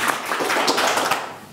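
A short burst of applause from an audience at a school spelling contest, many hands clapping close and loud for over a second before tapering off.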